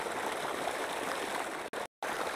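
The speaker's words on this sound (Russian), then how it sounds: "Здесь даже сверху фонтан тоже выбивает воды." Cold spring water gushing up out of the ground and spouting from above near a river, a steady hissing rush of flow at moderate distance that runs on unbroken before cutting out briefly near the end.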